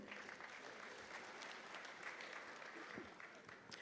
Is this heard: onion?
no